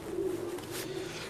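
A domestic pigeon coos at home, a low, throaty, rolling coo lasting about a second, close and fairly clear over faint room noise.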